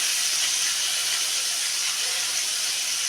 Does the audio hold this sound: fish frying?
yes